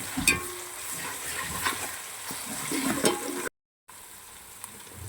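Ginger fries in a pan for a village-style crab curry, a soft sizzle with scattered scrapes as it is stirred, then a brief dropout before the frying resumes.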